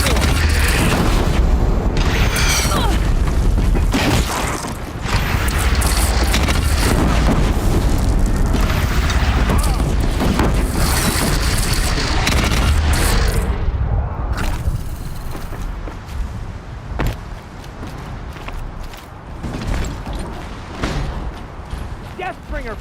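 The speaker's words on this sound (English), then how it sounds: "Deathbringer fire incoming!" Deathbringer machine gunfire and explosions in Horizon Zero Dawn, a loud, dense barrage of booms and blasts rolling continuously, then easing slightly toward the end, with voices shouting over the din.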